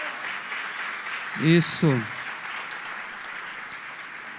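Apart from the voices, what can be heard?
church congregation applauding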